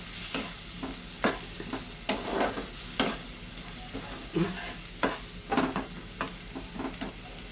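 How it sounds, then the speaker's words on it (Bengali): Ginger masala frying in a pan, with a soft steady sizzle under repeated scraping stirs of a spoon against the pan at an uneven rhythm, close and moderately quiet. "আদা কাঁচা গন্ধটা চলে যাওয়া অবধি একটু নাড়াচাড়া করতে হবে।"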